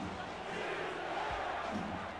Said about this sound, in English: Crowd on their feet here in Sin City.